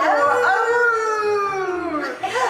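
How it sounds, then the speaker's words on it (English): A single long wolf howl rises and slowly falls in pitch, loud and close, with another howl starting just as it ends and a low hum running beneath. "I would think the wolf should be howling with you."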